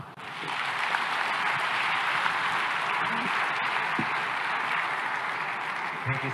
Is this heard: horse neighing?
no